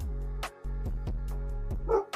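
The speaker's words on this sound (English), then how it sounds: "Badass dog." A dog named Ghost barks a few times close by on a Chicago street, with deep short barks, a brief pause and then more barking.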